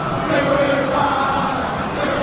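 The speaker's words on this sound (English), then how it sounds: "Crowd appreciates good football all round there." A football stadium crowd reacting to play in a match, a loud, dense roar of many voices that holds steady throughout with no clear peaks.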